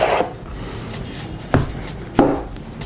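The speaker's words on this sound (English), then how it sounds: "you open this flap, and that allows you to remove the jewelry box from the outer box" A flap on a cardboard TAG Heuer Aquaracer watch box is opened and the jewelry box slid out, giving a few close, brief scraping rubs of card and paper with pauses between them.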